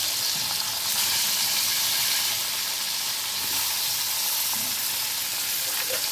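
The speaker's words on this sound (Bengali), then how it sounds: "মাছগুলোকে সব ভেজে নিয়ে আসি" Fish (bele mach) fries in hot oil in a pan, a dense, continuous, close sizzle that stays loud and even throughout with no speech over it.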